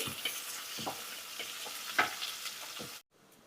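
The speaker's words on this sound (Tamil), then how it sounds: "வெங்காயம் நல்லா வதங்கட்டும்" Onions sauté in a pan with a continuous bright sizzle and regular spoon scrapes and taps, close by, before the sound cuts off abruptly near the end; no speech.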